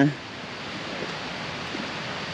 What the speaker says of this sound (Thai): แต่ได้ยินเสียงน้ำตกอยู่นะ